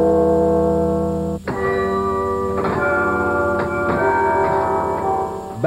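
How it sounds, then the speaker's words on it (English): The Peace Tower clock bells chime at noon after being repaired. After a steady droning tone, a series of bright, ringing bell strikes follows at uneven intervals, each one sustained and overlapping the next. "Promptly at noon, as unemployed security guards tried to shout it down, the Peace Tower clock went back to work."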